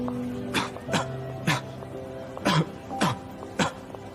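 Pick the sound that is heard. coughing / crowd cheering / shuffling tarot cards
coughing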